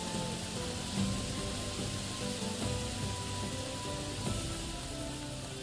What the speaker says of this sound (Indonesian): Oh ini benar-benar hujan nih guys.